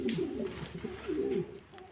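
Several pigeons coo in overlapping low, wavering phrases close by, the burbling calls repeating steadily before fading slightly at the end.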